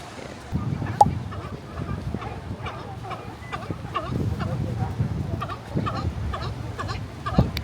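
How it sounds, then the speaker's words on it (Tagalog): Birds call repeatedly outdoors in San Francisco, a scatter of short gobbling, fowl-like calls over faint background noise, some near and some farther off. "Zoom in the birds."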